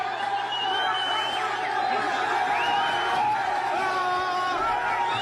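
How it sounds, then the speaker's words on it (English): A crowd cheering at a live show, a steady wash of voices and whoops that carries on throughout, with individual calls rising above the general din. "they cheer Buddy on"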